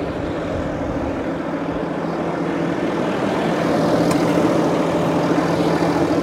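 A Deutz-Fahr 6180 TTV tractor engine runs at a steady, continuous drone with a rough low rumble, growing slightly louder toward the end as it pulls away in a field.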